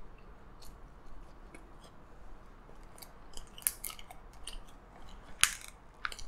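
Soggy fries are chewed close to the mic during a double cheeseburger mukbang, making soft wet smacks and irregular clicky bites over a quiet background with no talking.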